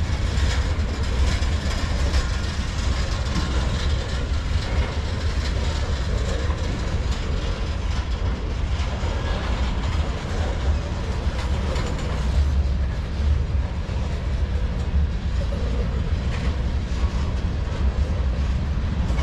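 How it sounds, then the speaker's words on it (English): Loaded tank cars on a long CSX freight train keep passing nearby, producing a continuous loud rumble with rhythmic wheel clatter and faint mechanical squeal. "More loaded tankers."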